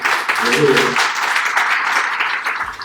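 A church congregation of the Iglesia Cristiana Vino Nuevo claps together in a loud, continuous burst, while a voice speaks briefly over the start of the applause.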